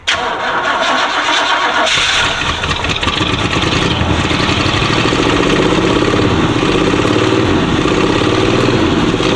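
A car engine with a newly replaced fuel pump cranks and catches, then keeps running loud and rough at a steady idle close by, with no talking.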